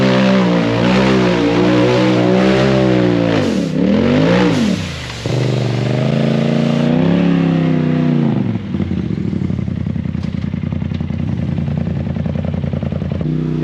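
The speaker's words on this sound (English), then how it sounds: "that Trinity exhaust be barking though" A loud off-road UTV engine with a Trinity exhaust revs hard and climbs in pitch, briefly drops off, then roars again with a raspy, barking exhaust up close.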